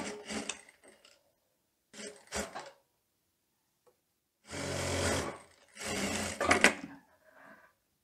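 A sewing machine stitching the sleeve of a teddy coat runs in short bursts, two brief runs, a pause, then two longer close whirring passes separated by brief stops.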